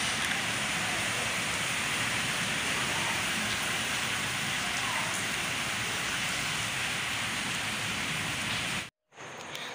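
Heavy stormy rain pours steadily in a village at night in a dense, constant hiss, loud and unbroken until it cuts off abruptly near the end.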